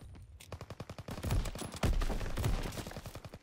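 Rapid gunfire in a World War II video game, many quick shots in bursts, loud and close, with no talk over it.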